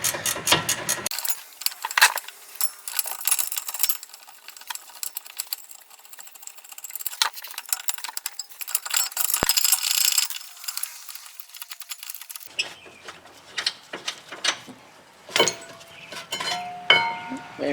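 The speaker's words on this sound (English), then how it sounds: "we're going to take our gear wrench," A gear wrench ratchets a rear brake bolt out on a 2011 Honda Accord, giving repeated close metallic clicking and clinking in bursts, with a pause and then further lighter clinks near the end.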